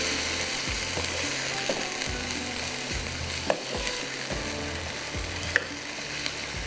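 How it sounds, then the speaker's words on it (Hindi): Ginger and garlic sizzle in a pan of oil and spices while being stirred, and the utensil scrapes rhythmically against the metal. A steady frying hiss sits under it with a few sharp clinks, close up and with no talk. "इसके बाद अदरक लहसुन, थोड़ा सा इसको फ्राई करेंगे"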